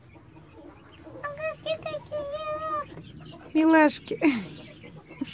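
Cobb-500 broiler chicks cheeping close by in short, repeated high calls, heard under and between people talking.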